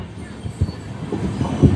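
A train pulls into platform 1 of Bandel station, a steady low rumble of wheels and carriages rolling with a few heavier thumps, heard from on board.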